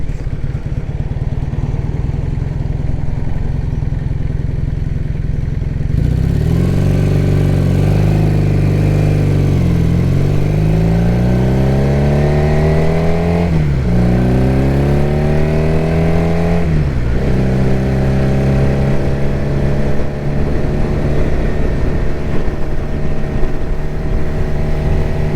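A 1978 Honda CB400T motorcycle engine runs while riding with the choke slightly on, loud and continuous, with steady drone and rising and falling revs through gear changes after a quieter opening stretch.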